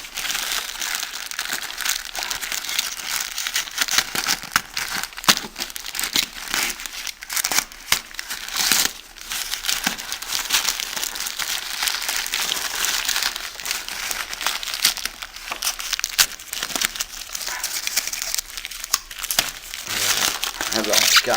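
Crinkling plastic packaging as a FlySky FS-i6 radio transmitter package is unboxed, a steady close rustle and crunch running throughout with occasional tearing sounds, with a voice speaking over it.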